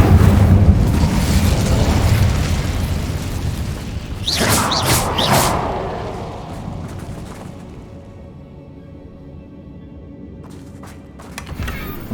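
Incendio fire spell blast in the video game Hogwarts Legacy: a dense roaring burst with a sharp crackling flare midway that fades into a lower rumbling tail, then a few faint clicks at the end.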